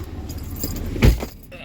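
Car keys jangle with a short, close metallic rattle and clink as they are put away, over a low background hum.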